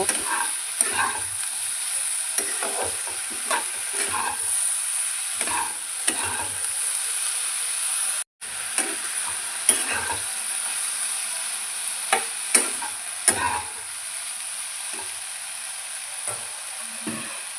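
Potato and eggplant pieces stir-fry in a pan, sizzling steadily up close while a spatula stirs and scrapes in irregular strokes, with one brief dropout midway and no talking.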